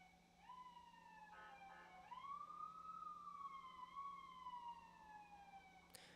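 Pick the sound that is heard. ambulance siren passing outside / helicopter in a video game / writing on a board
ambulance siren passing outside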